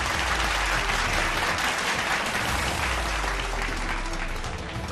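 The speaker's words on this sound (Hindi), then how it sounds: "पीएम के बैठक में पहुंचते ही बीजेपी सांसदों ने खड़े होकर ताली बजाई।" Dense, steady applause from BJP MPs standing in a parliamentary party meeting hall as the Prime Minister arrives, a continuous wash of many hands clapping at close range with no voices standing out.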